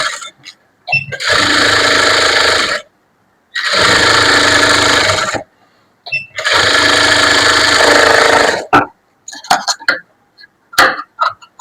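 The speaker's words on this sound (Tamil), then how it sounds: "இதுவும் அதே மாதிரிதான் சுத்திலும் தையல் போடுங்க" A sewing machine stitching around a size 34 blouse lining runs in three long loud bursts of roughly two seconds each, separated by pauses, followed by scattered clicks and handling noises.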